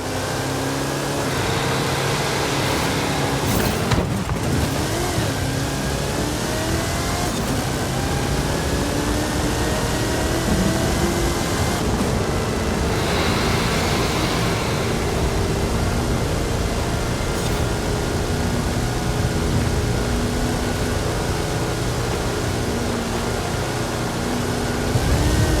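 Hot Wheels car with a 540 cubic inch Chevrolet engine and 66 inch Terra tyres in Forza Horizon 5, a loud sustained engine roar with shifting tones and a few gear-change swells, constant throughout.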